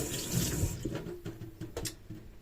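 Water runs from a kitchen tap in a home kitchen, a steady close rushing flow with light splashing and a few clinks of dishes in the sink.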